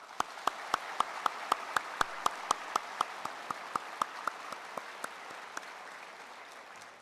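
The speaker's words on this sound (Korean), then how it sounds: "예, 우리 환영의 박수를 하겠습니다." A church congregation at a Sunday service gives welcoming applause, a soft even wash of clapping with distinct rhythmic claps on top that gradually fade.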